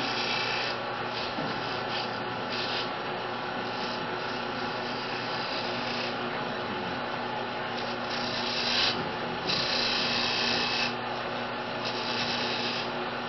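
A turning tool scrapes a decorative bead into the outside profile of a piece on a lathe, giving a steady, moderately quiet rasping hiss over a low hum with a few louder cutting passes and no speech.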